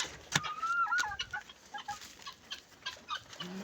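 Factory-bred chicks and hens cheep and cluck softly nearby, with a few sharp peeps and chirps scattered across a quiet background.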